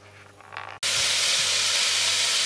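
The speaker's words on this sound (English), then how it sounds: "Now that's the onions sizzling quite nicely." Onions frying in a pot give a loud, steady broadband sizzle that bursts in suddenly after a quieter start and holds without a break.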